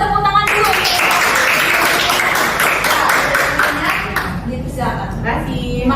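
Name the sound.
audience applause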